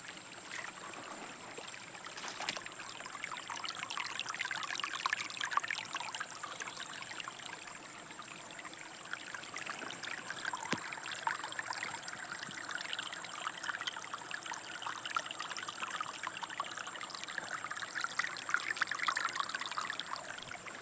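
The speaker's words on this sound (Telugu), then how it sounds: "ఇది ఇంకో వాగు, చిన్న వాగు, అది ఇది కలిపైతే పడుతుంది." Small stream of water flowing from farm fields, a faint, steady trickling and babbling that continues for about twenty seconds with no talking.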